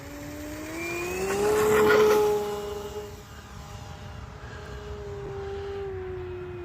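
An RC Sbach aerobatic plane with a 6S Rimfire electric motor takes off at a little over half throttle, its steady motor whine rising and swelling as it passes, then holding as a distant drone.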